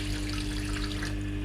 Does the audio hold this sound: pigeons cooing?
no